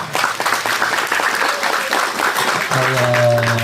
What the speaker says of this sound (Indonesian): Gini tepuk tangan untuk Banser lah.